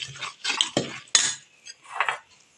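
A spoon scrapes and clinks around a metal pot while a thick mixture is stirred well, several short scraping strokes with a sharp knock, close and clear, no talking.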